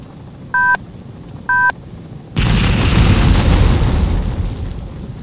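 Rocket launcher destroyed in a military video game: two short electronic beeps, then a loud booming explosion that rumbles and slowly fades over several seconds.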